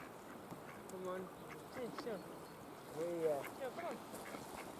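Ducks quack by a pond in the Wicklow mountains as they are fed, with a few soft, moderately near calls in two short bursts over a low outdoor hum.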